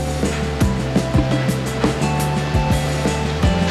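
ATF transmission fluid pours from a gallon jug through an oversized funnel, a close, loud, sloshing stream punctuated by irregular glugs.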